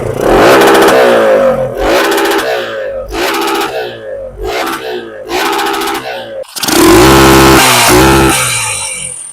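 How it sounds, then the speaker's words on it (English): A gasoline motorcycle's intake roars close by through a series of sharp, rhythmic throttle blips and revs, ending in a longer sustained rev, with the exhaust noise far quieter. "All the noise is coming from the bike, like literally like the intake noise."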